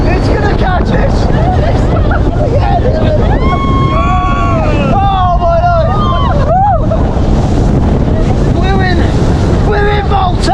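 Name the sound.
speedboat ride in strong wind off Malta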